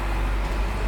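A bus rolls along a road, giving a steady, close, low engine-and-tyre rumble with road noise that holds level through the whole second, no voices.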